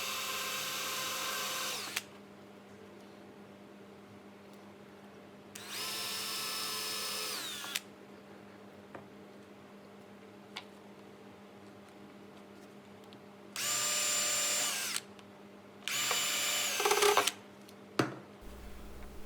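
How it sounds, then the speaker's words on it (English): A power drill fitted with a pin bit bores a pilot hole in timber skirting board, running in four loud whirring bursts of about two seconds each, separated by quiet pauses, with a final short burst and clatter at the end. "Then it's ready for you to put it in the drill."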